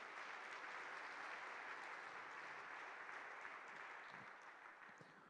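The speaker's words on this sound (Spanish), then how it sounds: "Denle un fuerte aplauso al Señor." A congregation at a Christian sermon gives a strong round of applause, a faint, even roar of many clapping hands that tapers slightly toward the end.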